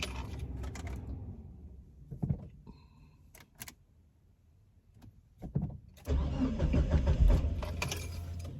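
A car engine struggles to start but does not catch: a few scattered clicks and knocks come first, then a loud, sustained churning crank from about six seconds until the end, with no talk.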